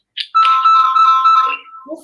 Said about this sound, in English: Who's phone ringing?